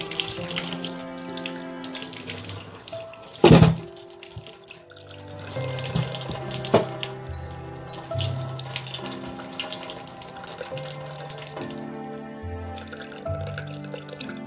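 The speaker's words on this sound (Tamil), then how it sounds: "மூண்டை நிப்ப தண்ணியில் கழுவ போகிறேன்" Potatoes being washed under a running kitchen tap, a steady stream of water splashing into the sink with a sharp knock near the start and small clatters as the potatoes are handled, no talking.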